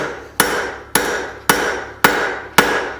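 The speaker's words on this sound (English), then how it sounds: "It's me laying it on the anvil, hitting it with my straight peen, making it longer." Five evenly spaced, ringing blows of a straight peen hammer on hot metal over an anvil, drawing out stock for a forged candle holder, each strike loud and close with a short decaying ring.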